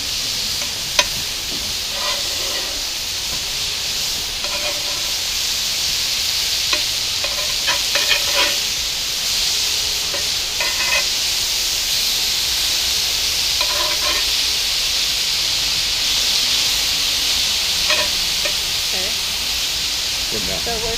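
Steak fajita meat sizzles in an Ooni pizza oven grizzler outdoors, a steady loud hiss of frying throughout, with occasional stirring clatter and faint voices talking over it.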